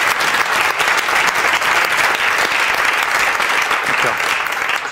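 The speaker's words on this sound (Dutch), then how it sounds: "Mag ik nog één keer een hartelijk applaus voor alle acteurs?" Sustained, loud applause from an audience honoring the actors at an education-sector event, dense even clapping with a few faint voices mixed in, steady throughout.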